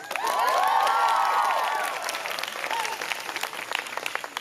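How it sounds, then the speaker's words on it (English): An audience applauding at the 2021 closing convocation of Governor's School East, a dense burst of clapping with whooping cheers and a whistle early on, then easing into steady, thinner claps. "I hope your hands are not tired of clapping"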